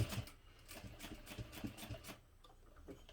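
A sewing machine top stitches a clutch in a quick, even run of needle ticks that slows and stops near the end, soft and close by.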